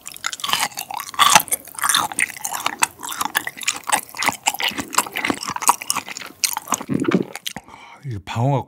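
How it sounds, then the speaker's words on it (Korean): Thick winter yellowtail amberjack sashimi chewed close to the microphone, with moist, squishy bites and wet smacking in a steady rhythm. Talk runs over much of the chewing. "방어가 커서 그런지 부위별로 씹는 식감이 다 다른데"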